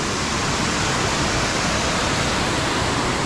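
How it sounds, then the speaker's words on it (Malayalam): Aruvikuzhy waterfall in Kottayam District, Kerala, gives a loud, steady, unbroken roar of falling water that fills the whole moment without pause, with no voices. "വളരെ നല്ലൊരു ഫ്രണ്ട്ലി ഒരു വാട്ടർഫോൾസ് ആണ്."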